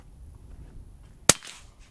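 A single sharp crack of a suppressed subsonic .308 sniper rifle fired at dirt, sounding like a decently big firecracker downrange, followed by a brief decaying echo over quiet outdoor background.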